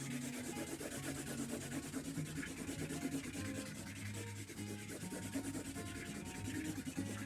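Markers colour a paper page in strips for a kids' paper mosaic craft, giving a continuous close-up rubbing and scratching of felt tips on paper with steady strokes and no pauses.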